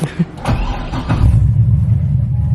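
A BMW M3 drives past on the road, its engine note building into a loud, steady rumble that holds for a couple of seconds after a few brief knocks and thumps at the start.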